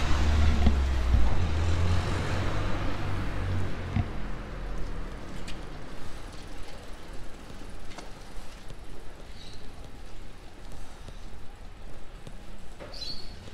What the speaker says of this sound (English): Got a car coming in.